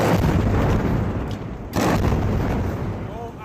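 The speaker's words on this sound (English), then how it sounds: "Another missile rocks the center of Tehran, just one of dozens." A missile strike hits the center of Tehran, heard as a loud, rumbling blast that swells, dips, then surges again into sustained roaring boom.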